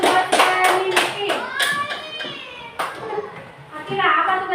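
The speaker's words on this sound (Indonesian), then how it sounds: "tepuk tangan untuk semuanya" Primary school children in a classroom clap their hands in several quick bursts of rhythmic clapping, mixed with children's voices and a teacher talking.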